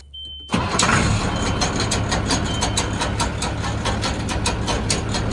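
Service truck engine idling steadily and loud after a brief quiet start, running while the truck lifts a semi engine with the battery charging; a constant low rumble with a faint rhythmic ticking.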